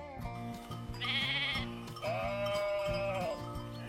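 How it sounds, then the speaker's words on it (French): Sheep bleat on a farm by a wooden pen in two or three drawn-out, wavering calls that stand clear and fairly close, with no talk. "C'étaient des moutons, tous couverts d'une laine dufteuse comme des nuages."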